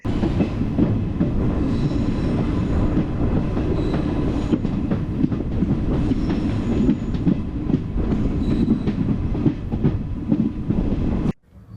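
A passenger train on the Coimbatore–Pollachi line runs along with a steady, loud rumble and rhythmic rattling of wheels and carriages, close and continuous, cutting off abruptly near the end.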